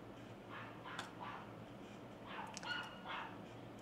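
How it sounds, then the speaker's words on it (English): A pet dog barks a few times at a distance, the sharp yelps faint against a steady low background hum. "we'll probably hear my dog barking back."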